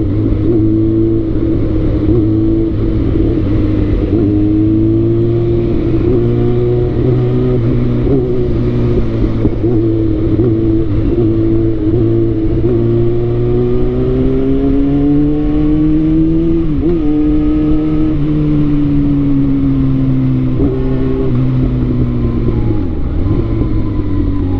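Close, loud motorcycle engine droning continuously during a ride, pitch rising and dipping with throttle changes and a short dip near the end, with no talking.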